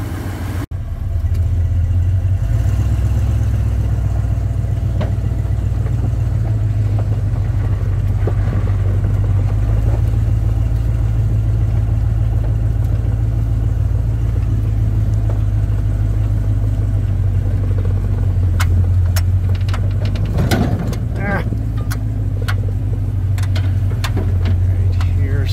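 A derelict 1976 Ford Bronco fitted with a PT6 turbine engine runs steadily with the hood down, a loud continuous low drone with a few clanks and bumps of handling nearby late on.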